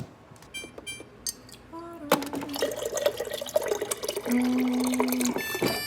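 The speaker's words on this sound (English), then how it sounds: "So I'm just gonna put some water in here." Water running from a tap into a container for homemade iced coffee, a splashing, trickling pour that starts after a couple of seconds of clinks and continues steadily, close by with no talk.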